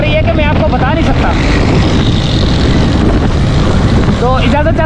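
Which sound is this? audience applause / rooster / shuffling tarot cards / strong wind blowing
strong wind blowing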